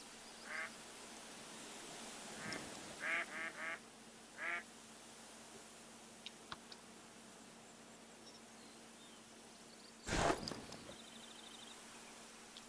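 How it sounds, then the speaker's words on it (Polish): Ducks quack in short bursts in the hunting game theHunter: Call of the Wild, a few scattered calls at middle distance over quiet outdoor ambience, with a louder rustling burst later. "Kaczki są."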